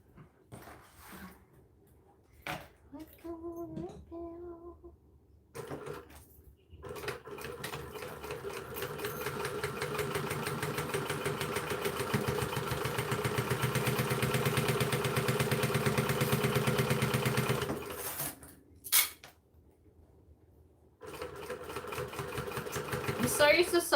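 A new sewing machine stitches a seam in steady whirring bursts, with one long run in the middle, broken by short pauses and handling clicks.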